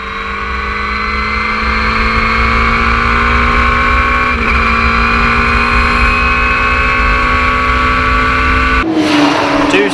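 Race car engine at the Birkett Relay Race holding a steady high rev, around three-quarters of maximum, loud and close with a sustained droning whine for most of the clip before cutting off abruptly near the end.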